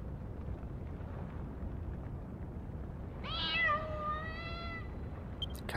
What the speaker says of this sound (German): Oh, es war nur ein Kätzchen.